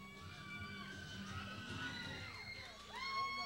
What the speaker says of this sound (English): Check out this hot crowd tonight, ladies and gentlemen.